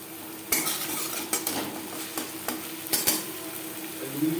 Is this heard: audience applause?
no